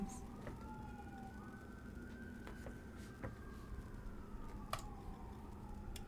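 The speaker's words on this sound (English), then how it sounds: "Just cop sirens, non-stop cop sirens." Police car sirens wail continuously at a distance in Los Angeles during protests, their rising and falling tones overlapping over a steady low city rumble, with no talk.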